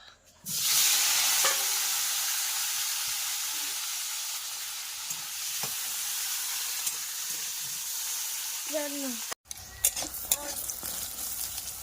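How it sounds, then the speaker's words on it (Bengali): Eggplant slices fry in hot oil in a wok, a steady loud sizzle and hiss running through nearly the whole stretch with occasional stirring clinks and a brief pause near the end. "এই যে বেগুন ভাজা হয়ে গেছে"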